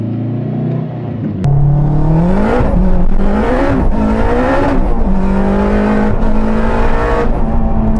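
A 500HP turbocharged K20 Honda Integra DC5 Type-R, pre-facelift on Goodyear tyres, pulls hard through the gears from up close, the engine note rising loudly in repeated climbs with brief dips at each shift as the front wheels spin.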